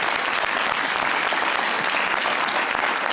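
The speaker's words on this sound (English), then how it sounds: "a round of applause." Sustained, dense applause from a sizable crowd celebrating the Ariane 6 rocket's first flight, loud and steady throughout with no voices standing out.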